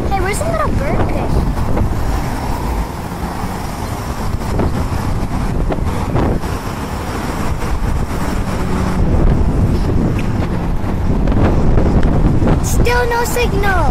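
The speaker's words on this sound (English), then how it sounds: "It's windy today." Strong outdoor wind buffets the microphone in constant rumbling gusts, loud and close throughout, with voices talking faintly underneath.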